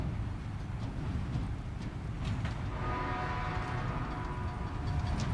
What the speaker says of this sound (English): Another monorail. Filled with bombs.